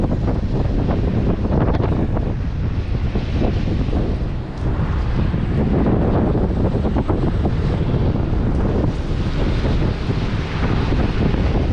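Strong, steady wind roars and buffets the microphone high up, with gusts surging and easing over a constant heavy rush and no voices.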